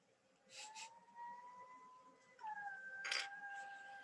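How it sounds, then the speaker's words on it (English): A dog howls in long, wavering tones, rising and falling over a couple of drawn-out cries, with faint clinks in the background. "ignore my brother's dog's howling"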